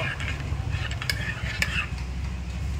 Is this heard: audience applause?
no